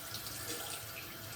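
Running tap water splashing steadily into a sink as something is rinsed under it, a continuous close hiss with no talk.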